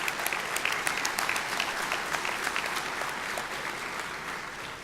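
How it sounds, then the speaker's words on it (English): An audience at a fire-recovery town hall with a state senator claps steadily, a dense, fairly distant wash of applause that holds throughout and slowly tapers off. "let's give him a round of applause for what he's doing"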